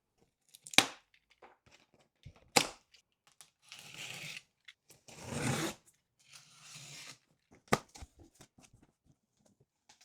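Packaging for a HeyGears G1X 3D printer ink station being cut and torn open: sharp snaps, rustling film and short rasping slices, close and intermittent with quiet gaps, no talk.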